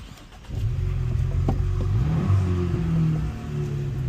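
A Ford Mustang 2.3 Turbo engine turns over and catches, then idles and revs in several rising and falling surges, close and fairly loud, with no talking.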